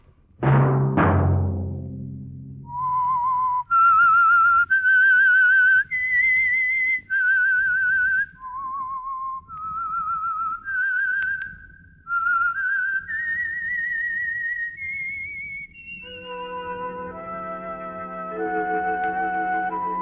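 A melodic whistled radio show theme from a 1948 old-time radio program carries on continuously for about twenty seconds, each note clear and sustained, heard alone without any talking.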